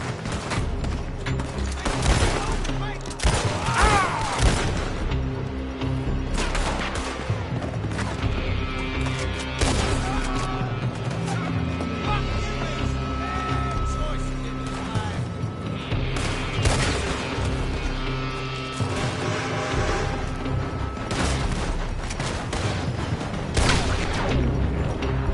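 Gunfire from the video game Red Dead Redemption 2 runs nonstop: dense volleys of rifle and pistol shots, heavy booms and crashes, loud and close throughout.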